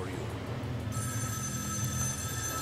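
Telephone ringing in the game Metro: Last Light, a steady electronic ring holding level against a low rumbling background with no pause throughout.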